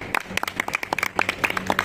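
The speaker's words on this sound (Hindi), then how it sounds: "मैम, तालियां हो जाए।" A small online class claps on cue, scattered hand claps popping in a quick, uneven patter, close and moderately loud, with brief voices mixed in.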